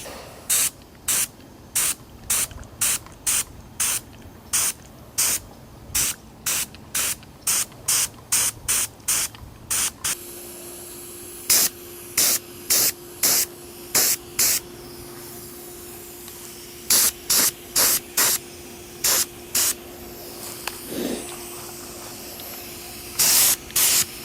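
Repeated short bursts of a spray gun hissing POR-15 coating onto 6.0 Powerstroke parts, fast and regular at first, then spaced out in separate blasts with pauses between them.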